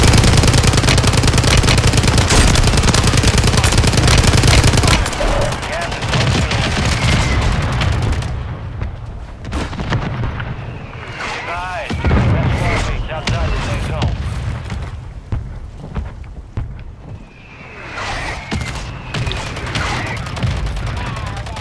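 Heavy gunfire and booming shots in a Call of Duty battle: dense, loud continuous fire at first, then scattered bursts and distant shots with a voice talking over them.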